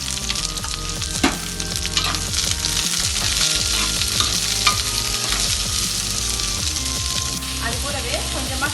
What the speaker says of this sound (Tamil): அடுத்ததாக வெங்காயம், இதையும் போட்டு இதை நல்லா வதக்கிக்குவோம்.